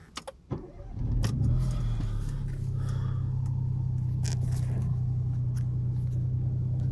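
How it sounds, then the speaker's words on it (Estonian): A car engine starts with a brief crank and catch, then settles into a steady low idle hum, preceded by a few small clicks and rustles inside the car. "Start the engine."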